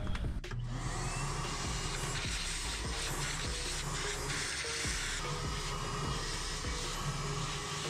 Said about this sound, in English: I'm gonna vacuum what I can with this.